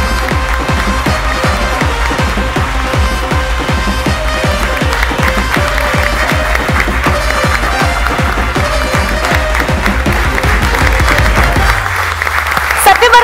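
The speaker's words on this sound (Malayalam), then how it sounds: "നല്ലൊരു കൈയടി കൊടുത്തുകൊണ്ട്" Audience applause for contestants at a televised elimination-round performance show, steady dense clapping filling the hall for about twelve seconds before it suddenly cuts off near the end.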